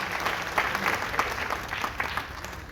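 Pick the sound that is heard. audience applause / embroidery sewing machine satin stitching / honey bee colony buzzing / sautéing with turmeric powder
audience applause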